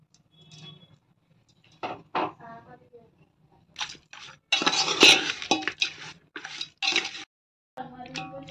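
Masala being mixed into mutton dum biryani in a pot, with intermittent scraping, clinking and wet squishing strokes of a utensil against metal, moderately close, some bursts louder than others.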